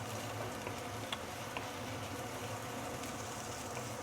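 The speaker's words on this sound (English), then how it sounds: "Use medium or medium low to slowly saute this ginger until golden brown." Julienned ginger sautéing slowly over medium-low heat in a pan gives a steady, soft, even sizzle that runs unbroken with a few faint ticks.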